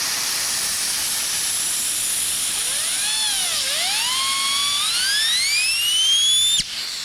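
A loud, steady hiss of compressed air blows out a chainsaw bar close by, its pitch whistling and sweeping up and down before cutting off abruptly.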